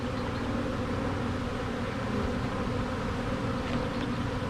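Honeybees buzz around an open hive in a dense, continuous swarm drone, close and steady throughout with no voices.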